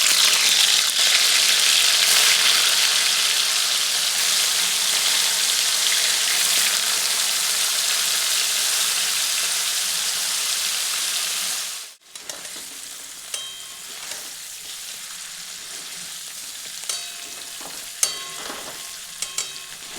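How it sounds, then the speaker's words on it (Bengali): Paneer pieces fry in hot oil and ghee with a loud, dense sizzle that holds steady for about twelve seconds. The sizzle then suddenly drops to a quieter crackle with occasional clicks. "তেল আর ঘিটি ভালো করে গরম হয়ে গেলে এরপর দিয়ে দিচ্ছি পনিরের টুকরোগুলো"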